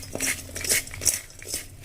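Sliced onions tossed with salt by hand in a bowl for pakora batter, giving soft, close, irregular wet squelches and light crunchy rustles in short bursts, with no talking.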